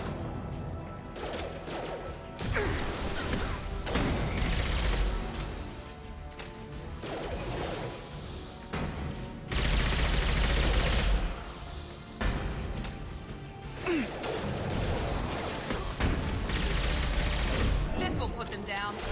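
Weapon fire in Mass Effect 2: several bursts of sci-fi gunfire and crashing impacts with loud stretches of shooting between quieter gaps, plus game noise throughout.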